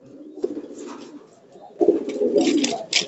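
Pigeons coo nearby in low, throaty bursts, a pause between two rounds of repeated cooing.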